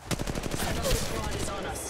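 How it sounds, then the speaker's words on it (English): A fast, continuous volley of automatic weapon fire during an Apex Legends Mobile firefight, close and steady with rhythmic shot pulses throughout, and an in-game voice faintly mixed in. "Opening fire."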